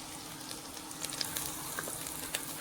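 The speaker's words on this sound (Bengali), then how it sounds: "কড়াই নিয়েছি, তেল গরম হয়ে গেছে, গরম তেলে দিয়ে দিলাম রসুন কুচি।" Chopped garlic sizzles in hot oil in a wok, a soft continuous crackle with a few faint pops and clicks.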